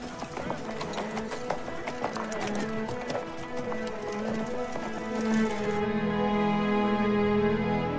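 Horse hooves clip-clop in a steady, close rhythm of hard knocks, continuing under background music.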